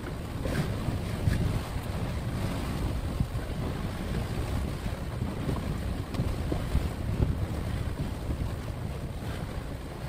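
A sailboat runs at over 7 knots on a windy passage between Phuket and Ko Phi Phi, with a constant rush of wind and water against the hull and heavy wind buffeting on the microphone.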